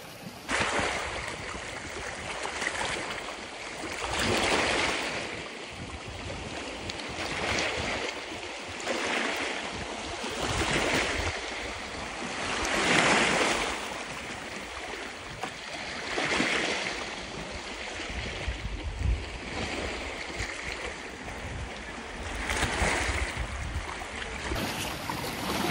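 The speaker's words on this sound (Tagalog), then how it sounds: "Sarap ng, ano, tunog ng dagat." Sea waves at Tan-awan, Oslob, Cebu wash in repeated swells roughly every few seconds, a broad rushing surge rising and falling over a steady background of water and light wind.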